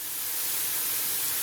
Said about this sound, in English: I've just added my onions to the pan with some fry light, and as you can hear, they're frying away now